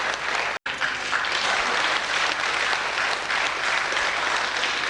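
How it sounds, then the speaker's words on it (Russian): Audience applause for honoured guest Anton Nikolaevich at a philharmonic concert show, a dense, steady clapping from a large crowd lasting throughout, broken only by one brief instant of silence near the start. "Антон Николаевич, это вам аплодисменты."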